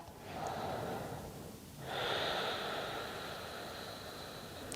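Soft, airy breaths drawn and released during a gentle post-abdominal-surgery yoga session, a quiet inhale and a longer, fuller exhale, faint and close with no talking.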